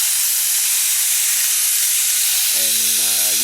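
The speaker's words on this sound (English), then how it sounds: "then let off the steam." Steam hisses loudly and steadily from a pressure cooker's release valve while frying chicken, a broad, continuous rush, joined near the end by a brief tonal whistle.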